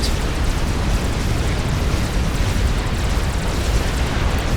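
Big balls of exploding plasma pound a point defense line in Supreme Commander Forged Alliance, a loud, unbroken wall of overlapping booms and crackling blasts that holds steady and dense for the whole stretch without letting up.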